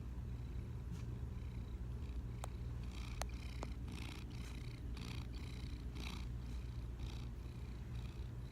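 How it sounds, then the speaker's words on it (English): A cat purrs quietly and continuously up close, a low rhythmic rumble pulsing with each breath, with a few faint clicks in the background. "Just a purring and a purring."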